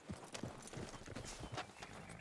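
Horse hooves plodding through snow in the video game Red Dead Redemption 2, a steady soft clip-clop rhythm close by, no talking.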